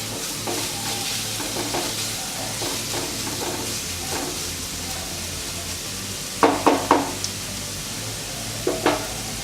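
Kerala-style pork pepper roast stirred in a pan over a medium flame, a soft continuous sizzle with a few sharp spoon-on-pan clanks in quick succession near the end; no talking.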